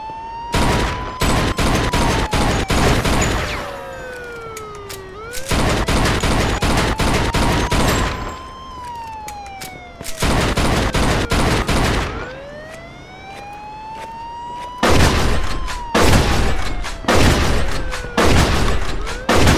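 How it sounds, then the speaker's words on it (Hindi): Rapid gunfire in Mafia II, aimed at a car's petrol lid: dense bursts of shots repeated in several long volleys, loud and close, with a wailing siren rising and falling behind them. "अगर पेट्रोल लिड मिल गया तो मैं सीधा उसमें गोली मार के इसको फोड़ दूंगा।"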